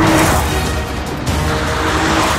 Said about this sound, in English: I can hear the engine really going